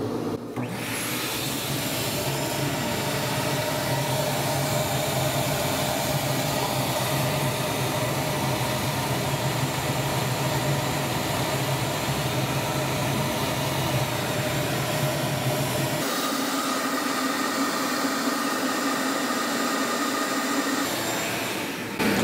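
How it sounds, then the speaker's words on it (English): A vacuum cleaner sucks leftover ashes out of a Harman pellet stove, a steady loud whooshing roar that holds for the whole stretch, its tone shifting as the nozzle moves inside the stove. "I'm gonna try to suck all that, suck the little bit of ashes that are left in there out."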